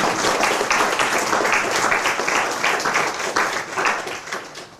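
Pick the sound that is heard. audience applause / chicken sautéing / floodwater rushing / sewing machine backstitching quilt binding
audience applause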